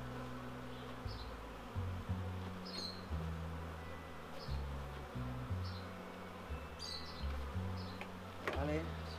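Honeybees buzz around an open, slow-growing beehive during an inspection, a low droning hum with shifting pitch and occasional louder passes nearby, with soft bird chirps above.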